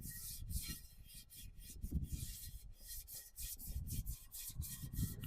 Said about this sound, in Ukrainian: беремо таку от щіточку для дисків і починаємо